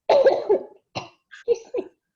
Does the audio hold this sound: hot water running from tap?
no